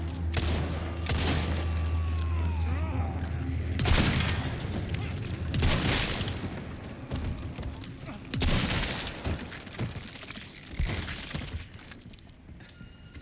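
Gunfire from a gun in the video game Resident Evil 4 Remake: a few loud, booming shots with glassy shattering and debris, heard over a continuous dense game soundscape with some voice in the mix.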